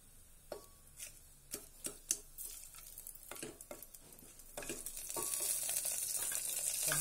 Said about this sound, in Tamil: நல்லா ஜீரகம் வெடிச்ச உடனே பாருங்க, நெய் வாசங்க